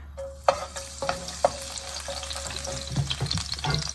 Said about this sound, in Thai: กระทะร้อนก็ใส่น้ำมันเลยนะคะ กระเทียมนะคะ